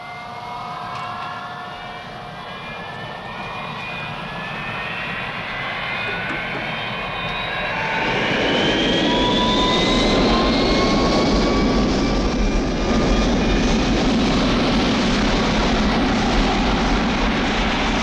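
Avro Vulcan jet bomber engines in flight at high altitude, a steady loud roar with a rising whine that swells louder around midway and holds, with no talk.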